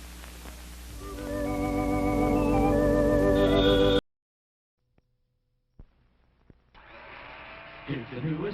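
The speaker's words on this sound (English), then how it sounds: "It's a General Electric blender that's going around." A General Electric blender whirs loudly and steadily for about four seconds, then cuts off abruptly into near silence, after which a voice begins speaking.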